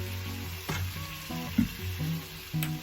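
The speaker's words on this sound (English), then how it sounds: "So now we're going to add in our spaghetti squash and the broccoli" Spaghetti squash and broccoli go into a hot pan with shrimp for lo mein, sizzling steadily up close as the food is stirred and shifted.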